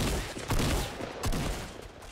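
Gunfire in Fortnite, two clusters of rapid shots roughly a second apart over a dense, noisy game background.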